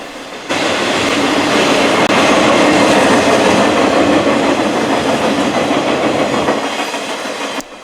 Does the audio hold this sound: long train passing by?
yes